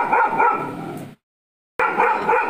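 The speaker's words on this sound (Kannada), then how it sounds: "ಬೊಗಳಲಿಕ್ಕೆ ಜನ ಇಲ್ಲ ಅಂತ ದಾರಿಯಲ್ಲಿ ಹೋಗುವವರಿಗೆಲ್ಲ ಬೊಗಳುದು" A dog barks at passers-by on the road, a few loud, close barks in quick succession, then a short silence before more barking resumes.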